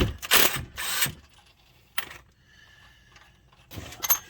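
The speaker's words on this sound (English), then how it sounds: "Bust this nut loose." A ratchet wrench breaks loose a nut on the 3.5 VTEC engine of a 2005 Honda Pilot, with loud close clicking bursts, a single click, a faint whine, then more ratcheting at the end, with no talking.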